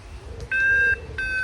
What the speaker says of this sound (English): if there's any pressure changing, it will beep